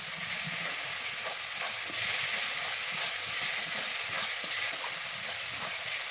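Ginger garlic paste frying in a pan for a Bengali-style chicken and potato curry, giving a steady, bright sizzle with soft stirring scrapes throughout, close and continuous.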